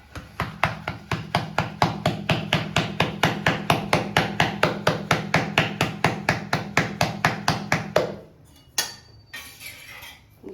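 Jowar rotti dough slapped and patted flat by hand, a fast, even run of around thirty close, firm pats that stops abruptly, followed by a few quieter shuffling touches.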